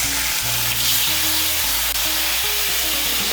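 Ginger paste with a splash of water sizzling in hot oil in a pan while cooking a vegetarian banana-flower kofta curry, a loud steady hiss and crackle throughout.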